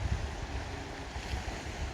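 Ocean waves and wind along the Shetland coast after the fog clears, a steady broadband wash of surf with rumbling wind buffeting the microphone, continuous and fairly faint.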